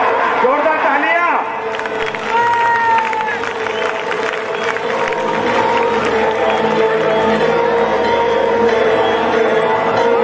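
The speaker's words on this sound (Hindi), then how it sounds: "जोरदार तालियां" Crowd applause and cheering from the audience at an open-air Ramlila performance in Azadpur, a loud continuous wash of claps with shouts and children's voices mixed in, following a voice at the start.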